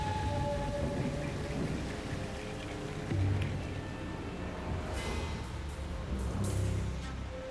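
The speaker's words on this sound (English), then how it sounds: "It hasn't stopped pissing down rain." Heavy rain pours steadily on an outdoor camp in Australia, a constant soft wash of noise with occasional low rumbles and a few brief sharper taps near the end.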